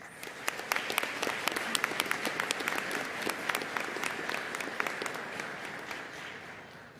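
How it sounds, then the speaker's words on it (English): An audience at the LSSC 66th commencement ceremony in Leesburg, Florida applauds with steady, fairly distant clapping that holds for several seconds and then tapers off slightly. "Let's give them all a round of applause."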